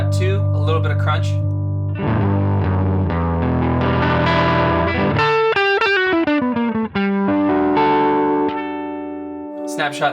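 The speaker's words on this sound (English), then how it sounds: "Switch to snapshot 2, a little bit of crunch." Electric guitar through an HX Stomp XL on a crunch snapshot, mildly overdriven chords ringing out, then a run of single-note licks and bends before chords return and fade.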